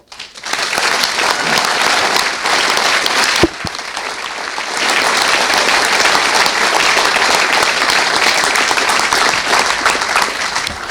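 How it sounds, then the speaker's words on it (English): A football supporters' club crowd in a stadium gathering breaks into loud, sustained applause, dense clapping that swells quickly, dips briefly, then carries on strongly for about ten seconds. "big round of applause"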